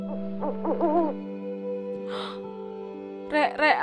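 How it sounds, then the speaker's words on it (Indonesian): Owl hooting in the Indonesian horror video game The Ghost Case, three separate bursts of quavering calls over a steady droning game background, fairly close and clear. "Burung hantu."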